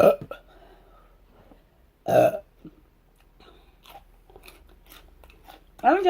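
Loud burps break out while a burger is eaten during a sloppy, messy mukbang: one at the start, a strong one near the middle, another at the end, with faint chewing and mouth noises in the quiet gaps between.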